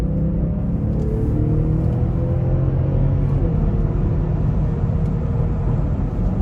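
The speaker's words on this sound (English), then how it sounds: "And we'll give it some throttle coming out of this corner." 2021 BMW X5 xDrive40i with a 3-liter turbocharged inline-six pulling out of a corner under throttle, a steady low engine hum with tire and road rumble heard from inside the cabin.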